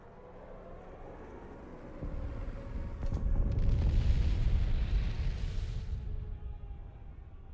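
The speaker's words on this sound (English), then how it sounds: "I think I'm definitely carpet bombing this turn" Carpet bombing explosions in the card game KARDS, a low rumbling blast that swells after a couple of seconds into a sustained roar, then slowly fades, with no talking.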